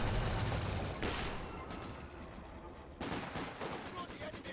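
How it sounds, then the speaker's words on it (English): Gunfire from a Volkswagen vehicle in a Company of Heroes 2 battle, bursts of rapid shots and crackling impacts in two heavy surges with quieter battlefield din between. "Volkswagen is firing away."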